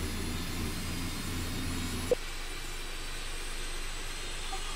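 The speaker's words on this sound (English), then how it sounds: "I'm quite enjoying the noise of this 1900E idling" A twin-turboprop Beechcraft 1900D airliner idles in the X-Plane 11 flight simulator with a steady low engine drone and hum, which drops away sharply after a brief click midway, leaving a faint hiss.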